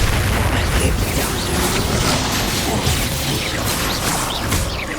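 Confringo and Bombarda spell blasts in Hogwarts Legacy during a loud battle, dense overlapping booms, crashes and whooshes that stay constant throughout, with faint shouting mixed in.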